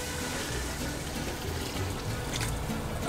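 Hot water pours steadily into a cooking pot with onion and seasoning, a constant close rushing splash over the whole stretch with no speech.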